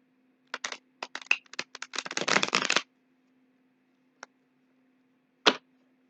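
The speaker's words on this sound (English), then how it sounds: "I'm going to go ahead and try to shuffle these. They're kind of stiff." Stiff cards riffled in a few quick bursts, a crisp flurry of flicks building to a longer shuffle, then two isolated snaps after a pause.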